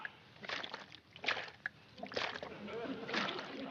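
Water sloshing and splashing in a flooded basement, with several bursts of movement through the water at a moderate distance and speech-like sounds mixed in.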